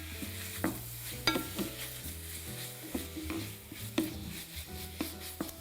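Green onions and meat stir-fried in a pan for royal court tteokbokki, a steady close sizzle broken by scraping stirs and occasional utensil clinks against the pan, with no talking.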